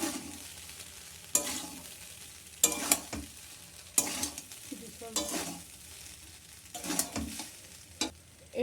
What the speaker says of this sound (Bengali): এবার এটা দিয়ে মিক্স করে নেবো।